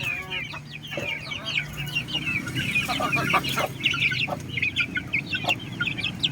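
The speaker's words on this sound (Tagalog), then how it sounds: "Papakita ko sa inyo yung actual na pagpapakain natin ng ating alagang manok." Pet chickens clucking and chattering busily at feeding time in a backyard pen, several birds calling close by in quick overlapping bursts over a low background hum.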